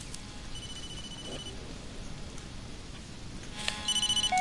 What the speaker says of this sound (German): Handy klingelt.